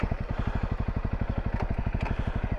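Honda CRF250L trail motorcycle idling or ticking over on a boggy hillside trail, a rapid even chugging pulse at moderate level, close by.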